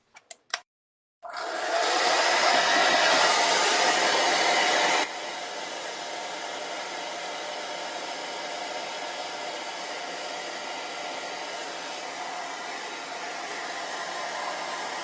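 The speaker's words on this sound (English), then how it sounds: "I'm gonna hit it with a hairdryer, so give me 1 second." A hair dryer is drying paint, starting with a few brief knocks, then roaring into a loud, steady blast that drops to a lower, constant blowing hiss partway through and continues to the end.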